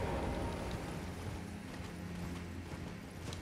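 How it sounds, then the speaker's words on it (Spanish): Horse galloping in the Elden Ring video game, a steady clip-clop of hooves running continuously over a low ambient rumble throughout. "Vamos a caballo nuevamente."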